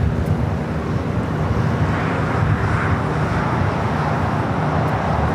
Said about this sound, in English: That's where we find a Delta 767 at 300ER now rotating.